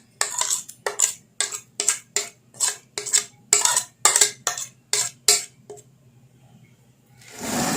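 A spoon stirring spices for karela achar in a bowl, about a dozen quick, regular scraping clinks close by, then a pause and a burst of broader rustling at the end.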